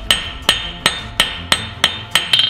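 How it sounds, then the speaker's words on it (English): A blacksmith's hammer strikes hot steel on an anvil while forging a penny-end scroll: eight crisp, evenly paced blows, each with a bright metallic ring, ending in a quick double tap. "So I'm going to true up my hammer"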